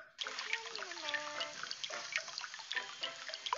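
Cartoonish shower water streams and patters in a baby unicorn care game, with a bright tonal whoosh at the start and sparkly drip effects running steadily throughout, no talking.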